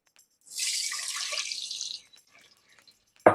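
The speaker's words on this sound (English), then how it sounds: "To this pan, I am now going to add some water." Water is poured into a hot pan holding leftover ham drippings and oil, a loud splashing hiss lasting about a second and a half before fading to faint sizzles and a final clunk.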